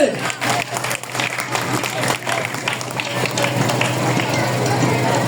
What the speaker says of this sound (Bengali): তাদের চারজনের জন্য একটা জোরে করে তালি চাই